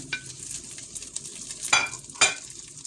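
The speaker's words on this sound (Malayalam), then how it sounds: "ആ ബട്ടർ ചേർത്ത് അതൊന്ന് മെൽറ്റായി വരുന്ന സമയത്ത് നമ്മുടെ മാസ്റ്റർ പീസ് ഐറ്റം പുട്ട് ഇതിനകത്തേക്ക് ചേർത്ത് കൊടുക്കാം" Puttu is stirred into melted butter in the pan left from a prawn roast. A low, steady sizzle is broken by a few sharp scraping strokes of a spoon against the pan, and no voices are heard.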